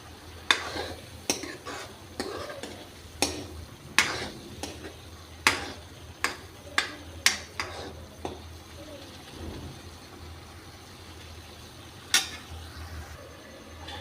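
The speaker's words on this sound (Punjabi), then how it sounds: "ਪਿਆਜ਼ ਆਪਣੇ ਭੁੱਜ ਰਹੇ ਹਨ ਜੀ" Onions fry in a pan for a mixed vegetable dish under a low hiss, while a spoon stirs with a run of sharp metallic clinks against the pan, close and irregular, that fade out partway through.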